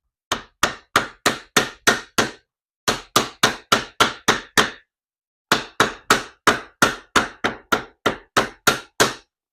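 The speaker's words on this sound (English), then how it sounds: "Let's take our hammer and" A hammer strikes leather in three quick bursts of evenly spaced blows, each sharp and close, separated by short pauses.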